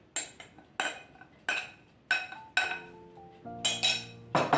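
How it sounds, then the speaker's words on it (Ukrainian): A spoon stirs flour into pumpkin batter in a bowl. It gives close, repeated clinks and scrapes against the bowl in an uneven rhythm, with a few ringing tones near the end and no voices. "І ретельно все розмішуємо."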